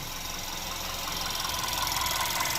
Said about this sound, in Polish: Silnik sobie jeszcze chodzi.